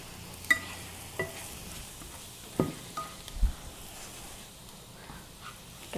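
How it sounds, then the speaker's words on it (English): Faint hiss of oil frying in a pan before broccoli goes in, with a few scattered clinks and bumps of stirring, quiet and close. "So you can hear it sizzling a little bit."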